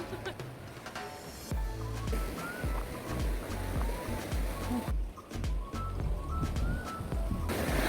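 Sea waves surging onto a rocky East Sea shoreline near a coastal lookout, a loud, continuous broadband wash with repeated swells, heard close and without speech.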